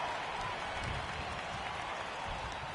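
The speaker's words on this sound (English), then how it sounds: "the home crowd seems a little restless" A restless home crowd in the baseball video game MLB The Show 18 gives off a continuous, fairly faint roar of stadium noise with scattered clapping, steady throughout.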